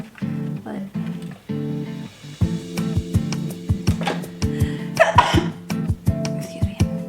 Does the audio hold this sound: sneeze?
yes